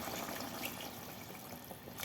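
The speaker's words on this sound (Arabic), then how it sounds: "هنزودها برضو كوبايه ميه تكمل تاخد غلوه تانية" Water poured from a cup into a cooking pot on the stove, a steady liquid splash and trickle running continuously for about two seconds at moderate, close level.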